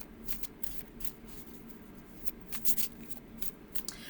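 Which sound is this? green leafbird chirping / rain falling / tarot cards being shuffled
tarot cards being shuffled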